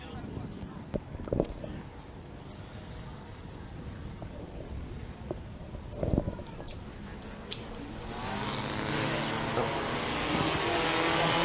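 Six race cars at Merrittville Speedway roar under a green flag, engines droning at a distance and swelling louder toward the end, with an announcer talking over them.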